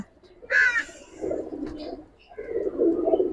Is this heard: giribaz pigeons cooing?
yes